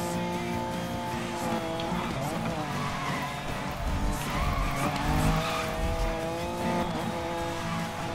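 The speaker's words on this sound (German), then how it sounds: "Oh, das wäre le perfekt Drift." A BMW drifting in Need for Speed Most Wanted, its engine droning with a sustained tire squeal that swells and bends through the slide, while someone talks over the game sound.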